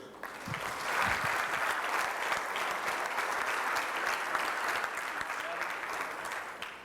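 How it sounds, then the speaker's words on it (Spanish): Audience giving a strong round of applause to welcome a speaker at an event of Mexico's national association of importers and exporters: dense, steady clapping from a large crowd, sustained at even loudness throughout. "lo recibimos con un fuerte aplauso"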